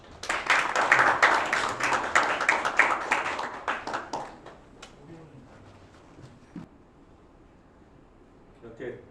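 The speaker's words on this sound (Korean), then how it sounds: "큰 박수로 환영해 주시기 바랍니다." Audience at a Korean semiconductor policy forum applauding to welcome a speaker, dense clapping that starts loud and close and then thins out and fades over several seconds, with a voice speaking near the end.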